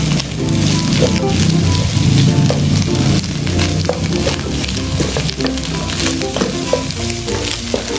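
Bean sprouts and egg stir-fry with scallions in hot oil, sizzling loudly and steadily up close with scattered crackles and spatter, and no one speaking over it.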